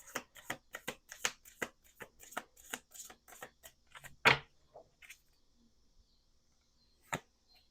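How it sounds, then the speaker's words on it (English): Tarot cards riffled and shuffled by hand, a quick run of crisp rhythmic card slaps followed by a louder snap and a few sparse taps, close and quiet with no talk. "Do 2 more shuffles."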